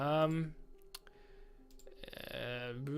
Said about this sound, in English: instead of clicking command button every time, you can just press Control 1